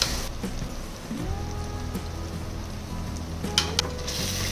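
Spices hitting hot oil in a pan for a large batch of soyabean pulao, giving a steady, close crackling sizzle that holds throughout with a few sharper pops, no talking.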